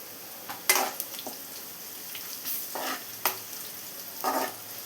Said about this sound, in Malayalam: ഇനി ഈ സവാളയും കൂടെ നന്നായി ഒന്ന് വഴറ്റിയെടുക്കണം